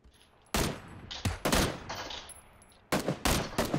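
Gunfire from PUBG rings out in sharp, loud bursts: a single shot, then a rapid cluster of rounds, a pause and another volley, with no talk over it.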